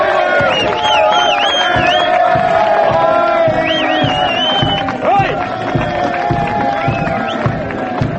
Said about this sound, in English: Crowds all round us.